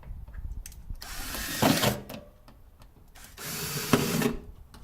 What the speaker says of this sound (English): We're going to drill out the 2 rivets that hold each socket on.